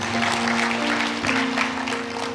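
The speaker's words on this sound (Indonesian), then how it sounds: "Tepuk tangan, saudaraku." Church congregation applauding during an Indonesian sermon, a steady wash of clapping filling the room for a couple of seconds with a sustained musical tone underneath.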